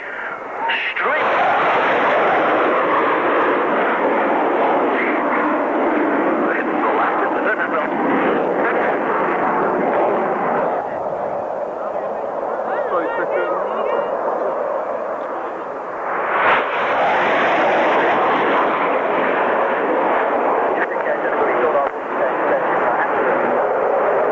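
A Tornado F3 jet fighter makes a fast pass at a 1998 airshow, a loud sustained jet roar that surges and swells, with a commentator talking over the PA.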